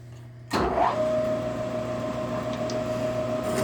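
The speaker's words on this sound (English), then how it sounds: "So this process is just the drilling, and then I'll tap just the cast iron" A drill starts abruptly and bites into a cast iron steam engine flywheel, settling into a steady, whining motor hum with a sustained tonal pitch, close and continuous, with no talking.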